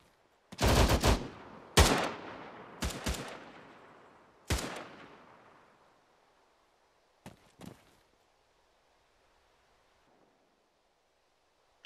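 Gunfire in the military shooter Arma 3 rings out as a handful of sharp, echoing shots, first in a quick cluster and then two later isolated reports, with long decaying tails and quiet between them.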